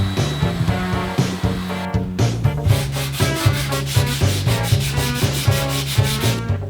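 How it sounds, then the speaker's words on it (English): Sanding rounds over the top and bottom edges of a large wooden circle for a hanging hourglass, a steady rhythmic rubbing that repeats in short strokes, close and fairly loud, with no talking. "round over the top and bottom of the larger circle"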